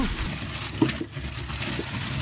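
Acorns being shelled give off a continuous watery rattle, like trickling water or rolling beads, with a few sharper clicks over a steady rustling background.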